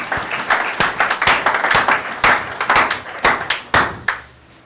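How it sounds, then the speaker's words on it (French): A church congregation applauds in a burst of brisk, fairly close clapping that fades out at the end. "Qui applaudit pour la parole de Who Dieu?"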